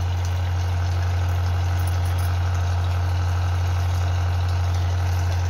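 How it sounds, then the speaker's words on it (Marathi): A diesel engine pumps water up from a farm well, idling with a loud, steady low drone and constant mechanical vibration close by, unbroken for the whole stretch. "ते इंजन विहिरीतील पाणी ओढण्याचं काम करतं"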